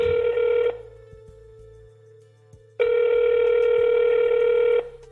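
A telephone ringing before a call is answered: two loud, steady electronic rings, the first brief and the second about two seconds long, separated by a quiet gap with a low hum beneath.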